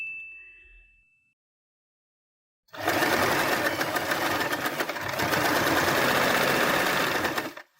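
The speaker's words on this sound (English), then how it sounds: "I'll sew both edges together. After sewing this part, we sew the other end one more time." A sewing machine stitches the fabric edges of a Christmas headband together. After a short ding and a few seconds of silence, it runs in one loud, continuous, rapid mechanical whir for about five seconds, then stops.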